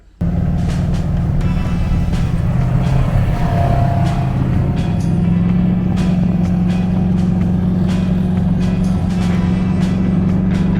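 Polaris RZR XP 1000 side-by-side fitted with a gear-reduction clutch kit pulling away on a rocky trail, a steady loud engine drone with a low hum that holds throughout and no talk over it.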